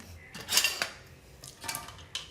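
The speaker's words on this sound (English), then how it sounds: "I really don't like washing the dishes, but I have to." Dishes being washed at a home sink after a family dinner: scattered clinks and clatters of cutlery against plates, a few sharp bursts with quiet gaps between, close and moderately soft.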